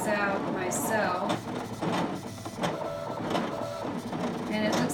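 A Brother ScanNCut machine cutting small paper tags, giving a steady mechanical whir with repeated motor sweeps and clicks while a person talks over it.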